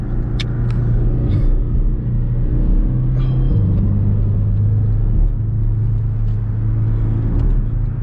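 A car driving on a road in Bahrain, with a steady low engine rumble and tyre drone heard from inside the cabin, shifting pitch slightly as it moves, with a few faint clicks and no talk.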